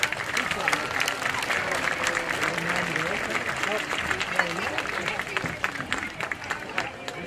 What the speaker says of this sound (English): One more time, a round of applause for the homecoming court